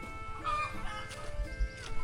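Chickens cluck around village duck and chicken pens, giving short, scattered clucks at moderate distance over faint background noise.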